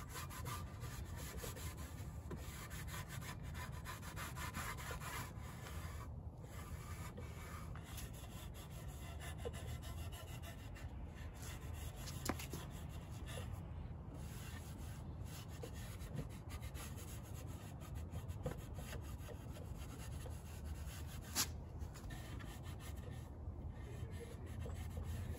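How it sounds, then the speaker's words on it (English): Steady soft rubbing and wiping of sanding dust with a tack cloth across a wooden plant stand, continuous and close, with faint scratchy friction throughout and no talking. "I'm just removing that dust using a tack cloth."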